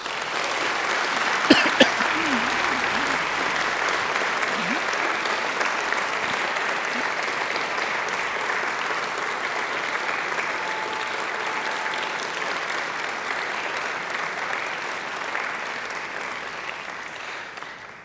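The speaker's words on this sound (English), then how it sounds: "And now I invite you to give them a mighty round of applause." Long, steady applause from a large university graduation audience filling a ceremony hall, dense continuous clapping with a few sharper claps near the start.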